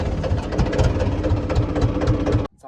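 A diesel farm tractor engine rumbles loud and close at a steady idle for over two seconds, then cuts out abruptly into near silence.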